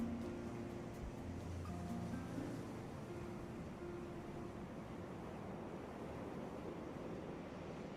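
Steady wash of surf breaking on a beach, a continuous broadband roar with faint wind, no voices and no clear individual wave crashes.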